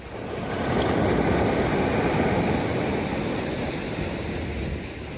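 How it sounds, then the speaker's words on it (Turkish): Sea waves break on the shore nearby, a loud, broad rushing swell that builds, holds, then slowly eases, with no voices. "Bakın dalgalara bakın"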